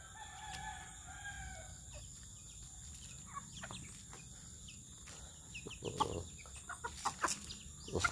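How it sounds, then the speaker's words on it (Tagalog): Chickens cluck and chatter steadily, with a rooster crowing among them, against a constant high electrical whine and outdoor ambience. "Ito na yung manok ko lahat guys, ito na."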